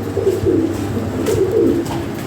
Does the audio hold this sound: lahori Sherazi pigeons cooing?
yes